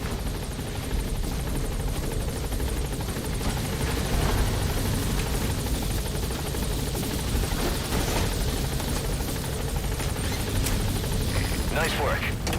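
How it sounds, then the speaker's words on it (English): A military helicopter in Metal Gear Solid V sets down and lifts off again, its rotor and engine roar steady and loud throughout, with voices talking over it. "the chopper's touching down"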